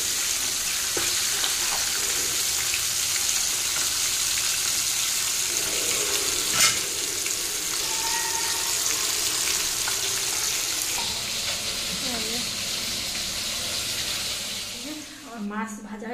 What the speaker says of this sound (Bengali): কিছুটা মাছ ভেজে তুলেছি, এগুলো ভেজে তুলে নিয়েছি আর এইগুলো আবার দিলাম।